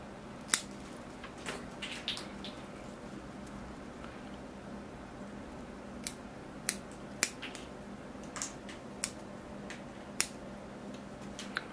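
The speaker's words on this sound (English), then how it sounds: "these long handled scissors really help for this because you can reach in and" Scattered sharp snips of long-handled scissors pruning small Austrian pine branches, sparse and irregular, fairly faint against a quiet outdoor background.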